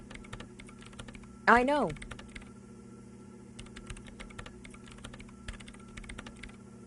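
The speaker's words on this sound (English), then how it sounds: "her hands typing hundreds of commands into the machine" Fast clicking on a computer keyboard, steady close taps running throughout, briefly interrupted by a short spoken line near the start.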